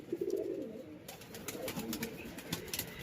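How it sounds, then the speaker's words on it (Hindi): Soft, low cooing from caged pigeons nesting on eggs nearby, repeated murmuring calls over a faint background hiss. "ये वही कबूतर है जो इरफान भाई के पास से आए थे"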